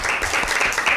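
Audience applause at a Bible quiz show for a correct answer, a short burst of dense clapping from a crowd, heard alone.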